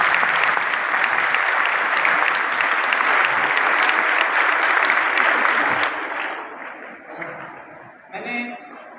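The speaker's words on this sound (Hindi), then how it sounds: "आप सब उनके लिए एक दफ़ा दोबारा भरपूर तालियां" A crowd at a government girls' college event in Ali Pur Chatha gives steady, dense applause that holds loud for about six seconds, then thins out and fades, with a brief voice near the end.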